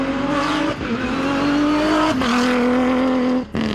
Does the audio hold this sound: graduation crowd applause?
no